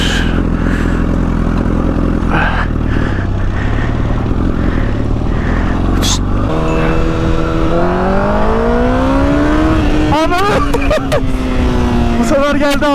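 A Porsche car passes by loudly on a road, its engine note rising and sweeping in pitch as it approaches, with motorcycle engine noise and wind rumble throughout and speech in the background.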